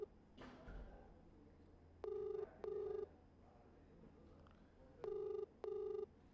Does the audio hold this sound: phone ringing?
yes